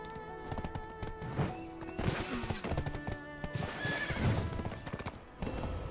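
A horse in the video game Black Desert Online whinnies loudly over steady clip-clopping hooves, with faint buzzing insects in the background and no talk.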